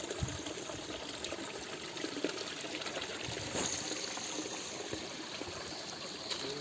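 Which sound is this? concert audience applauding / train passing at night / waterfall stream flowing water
waterfall stream flowing water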